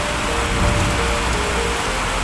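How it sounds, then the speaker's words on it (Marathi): Heavy rain pours steadily and loudly near the Atal Setu bridge, a dense, unbroken roar of drops filling the whole stretch with no talking. "फुल पाऊस आहे, फुल."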